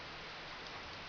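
Steady rain falls at a farm, a dense, even hiss of drops hitting surfaces, continuous and fairly loud with no talk.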